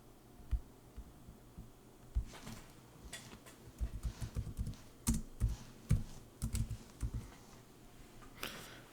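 Someone types on a computer keyboard in quiet, irregular bursts of soft clicking keystrokes at close range, with no talking.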